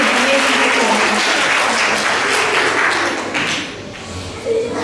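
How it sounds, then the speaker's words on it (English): A ballet academy audience applauds after a performance, sustained loud clapping from a full crowd that thins slightly toward the end. "Can we give them another big round of applause?"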